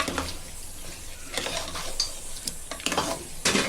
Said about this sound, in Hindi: अभी गोश्त डालेंगे और अच्छे से गोश्त को भूनेंगे।